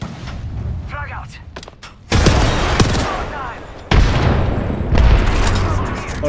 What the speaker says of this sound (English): Eat thermite. Grenade out. Frag out.